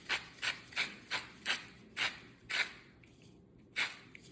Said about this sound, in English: So it's about 10 turns on your salt and pepper grinder.